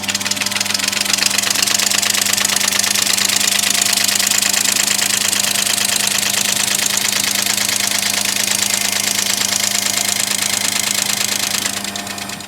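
Lathe spins a radio part held in its chuck while a recess for a washer is machined, a steady close mechanical drone with a low hum that runs unbroken, then cuts off at the end.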